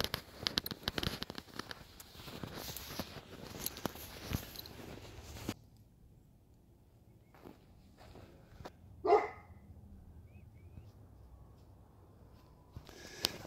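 A dog barks a few times at a distance outdoors during an evening dog walk, with rustling and crackling noises in the first half and quieter stretches between.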